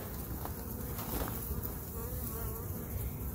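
Honey bees buzz steadily inside a hive, a dense, continuous drone with a close, even hum that holds throughout without pauses or voices.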